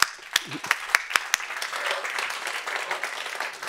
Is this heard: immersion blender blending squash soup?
no